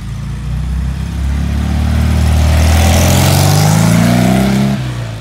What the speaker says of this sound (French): on a plus des voitures qui font des bruits comme ça, le claquement là comme ça là